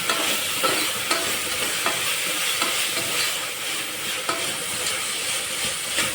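Masala for veg biryani sautés in a pan with a steady, close, bright sizzle and occasional soft scrapes of stirring throughout, with no voices.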